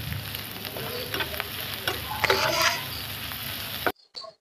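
Chopped onion and green chilies fry in hot oil with a steady crackling sizzle and stirring clicks that swell near the end, then cut off abruptly, followed by a brief faint sound.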